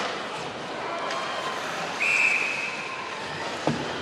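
A referee's whistle gives one short, shrill blast at a women's college ice hockey national championship game. It rises briefly above a steady roar of arena crowd noise.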